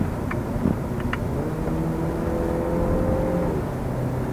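A 2013 Volkswagen Golf 7 accelerates on a narrow road, heard from inside as a low engine hum under road noise, with the pitch rising and then stepping as a gear changes quickly.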